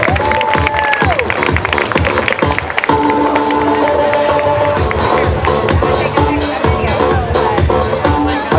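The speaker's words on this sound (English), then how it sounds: "The pageant girls, ladies and gentlemen, give them a round of applause" A crowd at a fashion show in a bar applauds and cheers for pageant girls, steady clapping and whoops layered with music tones and a brief voice over the noise.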